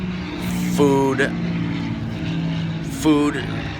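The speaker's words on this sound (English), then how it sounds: "there's an airplane going overhead" An airplane flies overhead, a steady low drone holding through the whole stretch while a voice breaks in briefly twice.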